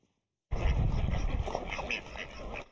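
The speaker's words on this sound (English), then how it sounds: "That's a lot of ducks." Ducks quacking together in an enclosure at an animal sanctuary in Westchester County, a steady loud chorus of overlapping calls that starts abruptly and runs continuously with some talk mixed in.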